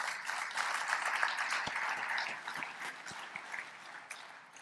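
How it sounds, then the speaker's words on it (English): Conference audience at a general session applauds, a faint, steady wash of many hands clapping that swells and then tapers off. "Give yourselves a round of applause"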